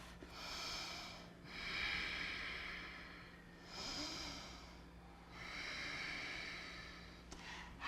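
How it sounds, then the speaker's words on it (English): Slow, deep breaths during a yoga class, long audible inhales and exhales in a steady rhythm, close but fairly soft, with no talking. "Hear your breath."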